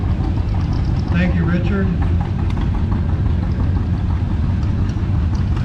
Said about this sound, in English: He's operating his 1946 John Deere Model A. Very powerful tractor in the early years.